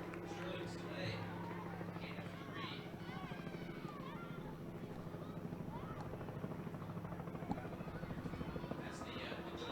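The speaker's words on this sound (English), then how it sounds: "Got the helicopter landed on one of the practice fields over there." A helicopter sits on a practice field beside a third-grade youth football championship game, its rotor drone steady, faint and distant throughout, with voices talking over it.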